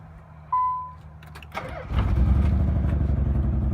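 A Nissan 300ZX with a misfire problem: a short beep, a clunk as the engine cranks, then a low, rough idle rumbling close by, with no talking.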